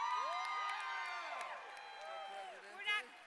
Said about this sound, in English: how about a round of applause for Colorado?